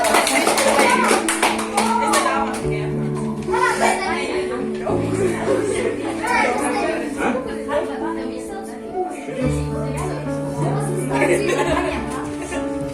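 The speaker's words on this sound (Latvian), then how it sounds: "Aplausi Jogitiņai!" An audience at an event claps in bursts of applause mixed with lively chatter, children's voices and laughter, with a musical tone humming underneath throughout.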